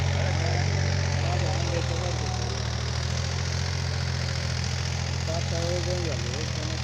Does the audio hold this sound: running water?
no